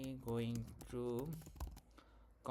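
Computer keyboard keys click quietly and fairly steadily during a TypeScript coding speed test, faint beneath a person talking throughout.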